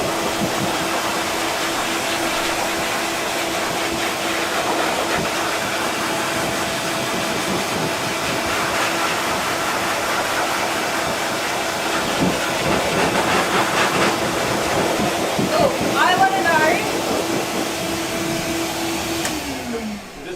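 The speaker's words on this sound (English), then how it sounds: "can you hear us fine over the top of the blow dryer?" A blow dryer runs steadily through the whole stretch while a dog is groomed, a loud continuous rushing whine with a constant tone. It drops off at the very end, and voices speak faintly under it.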